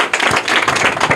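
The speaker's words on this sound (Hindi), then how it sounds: "इनके लिए जोरदार तालियां" Applause for a contestant's correct answer on a Hindi quiz show, steady dense clapping from an audience throughout the short stretch, loud and close.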